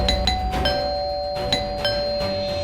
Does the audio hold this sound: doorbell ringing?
yes